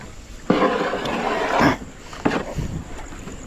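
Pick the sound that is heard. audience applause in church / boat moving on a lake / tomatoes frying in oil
boat moving on a lake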